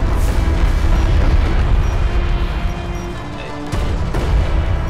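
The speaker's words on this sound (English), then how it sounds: "Missile barrage in the air." Missile barrage explosions in the video game Homeworld: Deserts of Kharak, a dense, loud, continuous rumble of booms and blasts with a brief dip in intensity before it surges again.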